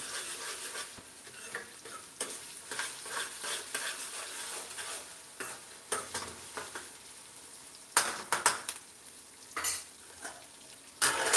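Onion, green chilli and ginger-garlic paste frying in a pan for chicken fry, a steady sizzle with repeated scraping and clinking of a spoon stirring against the metal, close and continuous with no talking.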